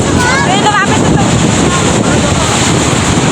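Loud wind at Laguna Bay roars and buffets the microphone continuously, with a voice briefly shouting over it near the start.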